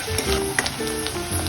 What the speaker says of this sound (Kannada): ಉಳ್ಳಾಗಡ್ಡಿ ಇದಾವೆ ರೀ. ಇದಕ್ಕೆ ಹಾಕ್ತೀನಿ ನೋಡ್ರಿ. ಎಣ್ಣೆಗೆ ಹಾಕ್ತೀನಿ ನೋಡ್ರಿ.